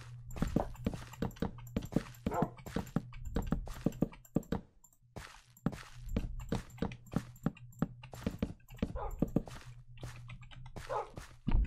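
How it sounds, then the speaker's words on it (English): In Minecraft, a dog gives a run of short, close barks and whimpers with steady footstep-like taps under a constant low hum. "Dog."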